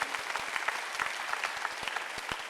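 A church congregation claps together during a Sunday worship service, a steady rhythmic beat of many hands at fairly even loudness, filling the room for a couple of seconds without any voices over it.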